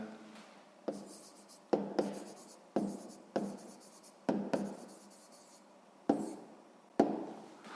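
Pen strokes writing an answer by hand during a sixth-grade maths exercise: a steady scratchy rub on paper, broken by about ten sharp taps as the pen lifts and lands, close and fairly quiet, with no talking.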